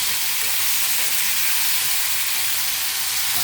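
Eggplant and drumsticks sautéing in hot oil in a pan for a South Indian gravy, a loud, steady broadband sizzle and hiss that runs unbroken close to the mic with no talking.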